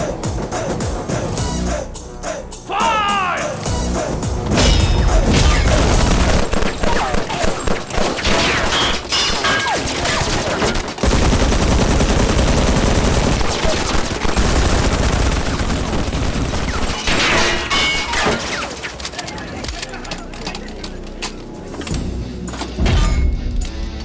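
Small automatic weapons firing in an action film scene: dense, continuous bursts of rapid gunfire with thuds and crashes, loud and close, sustained throughout with only brief lulls.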